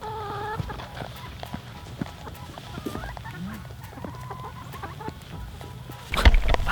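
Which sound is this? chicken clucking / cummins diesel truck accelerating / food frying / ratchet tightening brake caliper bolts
chicken clucking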